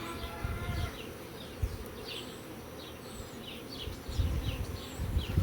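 Honeybees buzz around an open, mature beehive being prepared for moving to an orchard: a steady close drone of many wings with brief louder passes, over low rustling handling noise.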